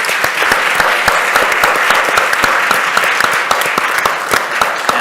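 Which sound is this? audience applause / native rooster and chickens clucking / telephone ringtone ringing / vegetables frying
audience applause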